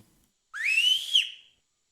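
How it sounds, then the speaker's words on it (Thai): A single clear whistle sweeps quickly upward, then holds a steady high note for about a second before cutting off into silence. "เสียงผิวปากสัญญาณพรานของปู่ดังแล้ว"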